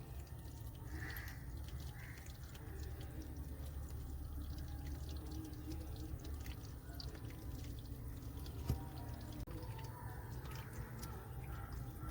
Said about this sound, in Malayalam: നമ്മളിപ്പോൾ ഓസ് വെച്ചിട്ടാണ് വെള്ളം ഒഴിക്കുന്നത്.